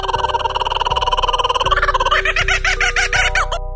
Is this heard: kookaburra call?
yes